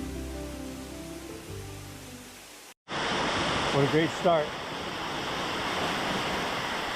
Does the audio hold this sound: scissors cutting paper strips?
no